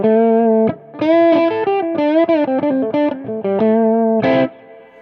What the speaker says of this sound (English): it is introducing distortion through the EQ